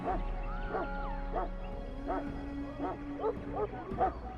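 A Mabari warhound in the Dragon Age: Origins video game gives several short barks and yips spread over a few seconds, fairly quiet, with faint background tones and occasional voices.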